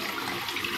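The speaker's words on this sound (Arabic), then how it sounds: "باخد الطرف بتاعه ده الاول خالص وبحطه في الحنفيه" Tap water runs into a sheep's intestine casing as it is rinsed, a steady close-up rush of water that holds evenly for the whole short moment.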